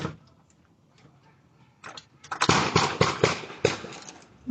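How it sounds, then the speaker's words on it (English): Gunshots recorded by a residential doorbell camera in Maine crack out as a rapid cluster of about five sharp reports in just over a second, after a quiet stretch. "You can hear 5 shots fired in just over a second in the distance."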